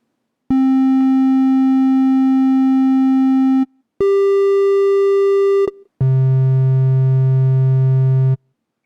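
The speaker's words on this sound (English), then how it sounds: "And now we'll take a listen to the triangle." An ARP 2600 synthesizer plays a triangle wave in three sustained notes at different pitches, each steady and smooth with a soft, hollow tone, loud and alone, separated by short silences.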